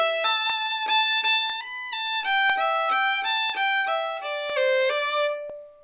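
A fiddle plays a short phrase of the tune Billy In The Lowground alone, clear bowed notes in a quick, even rhythm with a few slurred pairs, ending on a sustained note.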